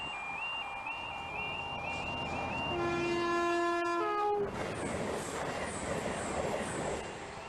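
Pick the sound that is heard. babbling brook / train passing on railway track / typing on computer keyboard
train passing on railway track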